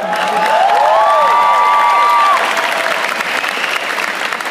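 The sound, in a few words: audience round of applause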